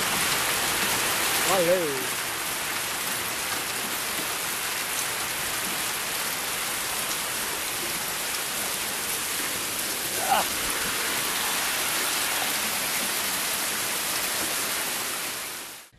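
Heavy rain pours during a violent storm with hail after a heatwave, making a steady, dense, hissing roar that stays constant throughout. A voice is briefly and faintly heard over it.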